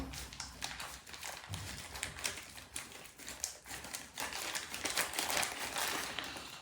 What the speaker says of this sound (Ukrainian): Беремо ножниці і розрізаємо.